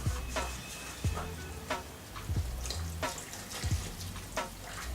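Water and olive oil poured into a bread dough mixture in a kitchen, heard as faint trickling and splashing with a few small drips and clinks, quiet and close.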